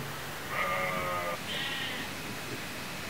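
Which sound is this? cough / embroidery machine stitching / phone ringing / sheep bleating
sheep bleating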